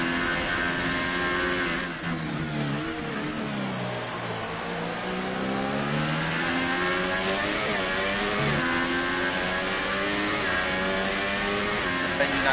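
Formula 3 race cars in a sim racing evaluation race at a wet German circuit, with engines droning and rising and falling through gear changes, a steady loud whine of several cars near and passing, under low commentary.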